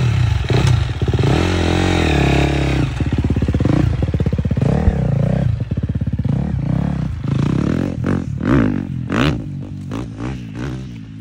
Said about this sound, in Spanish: So we're gonna try Max's bike.